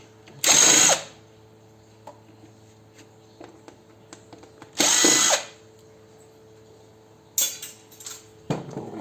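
A power drill undoing screws on an old stainless steel electric fruit juicer, three short loud whirring bursts separated by quiet gaps with small metallic clinks and handling noises.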